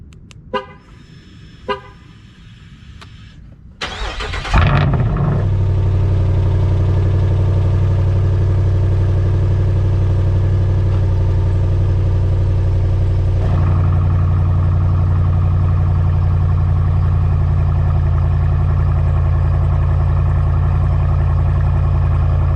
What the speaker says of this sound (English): now that you have heard a cold start with the valves opened